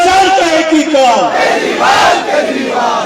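Rally crowd chanting an anti-corruption slogan in Hindi at an Aam Aadmi Party Ambedkar Jayanti event in Champaran, Bihar, a loud unison of many voices rising and falling in repeated rhythmic phrases.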